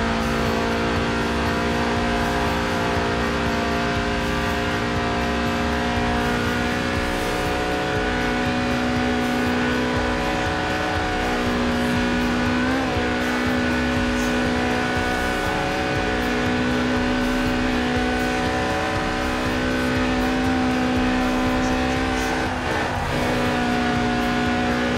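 A Lotus sports car's 1.8-litre, 190-horsepower engine, which revs to 8,000 RPM, drones continuously at high revs in the video game Forza Horizon 4: a steady sustained whine with slight pitch shifts, loud and close, with no talking.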